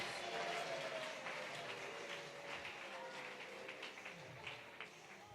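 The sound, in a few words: audience applause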